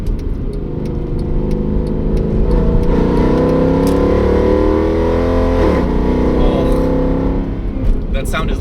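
Mercedes W204 C63 AMG engine accelerating up through the revs, a loud, close, throaty growl rising and falling steadily for several seconds.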